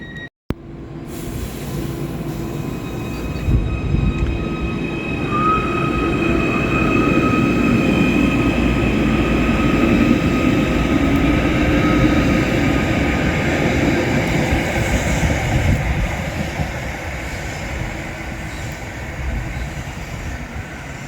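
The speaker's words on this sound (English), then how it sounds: "This is Spital railway station, operated by Merseyrail, and it has 2 platforms." Merseyrail Wirral Line train at Spital railway station, a steady loud rumble of rolling wheels and motors lasting throughout, rising and easing slowly, with a faint high whine above and no voices.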